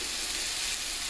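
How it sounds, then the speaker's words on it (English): Steady, loud hiss of white wine hitting a hot pan while deglazing during chicken piccata, a brief continuous sizzle with no talking. "we're going to deglaze with some more white wine"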